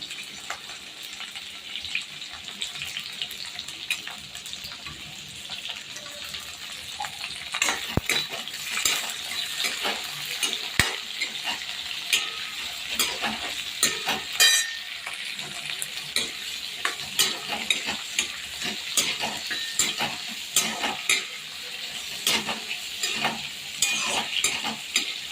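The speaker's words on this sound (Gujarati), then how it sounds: "થોડીવાર કાંદાને 1-2 આટા મારીને સોટલી લઈએ પછી આપણે આવીને ગાજરને નાખી દઈએ છીએ." Chopped onions and carrots sauté in a pan, a steady close sizzle broken by frequent scraping and clinking as a utensil stirs them, louder and busier in the second half, with no talking.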